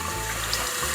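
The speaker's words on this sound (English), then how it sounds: "Just a nice little stream of water there" A newly installed HURRAN bathroom faucet sends a thin stream of water into the sink, giving a steady, close hiss that runs for about a second without pause.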